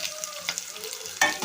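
Finely chopped onions, two of them, dropped into hot oil with spices already frying, sizzling and crackling steadily up close with a few stirring scrapes and a louder sizzle near the end.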